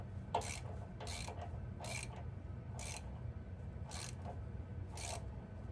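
A pipe fitting being tightened on a water heater gives off a faint, regular ratcheting click about once per second, six clicks in a row over a low background hum.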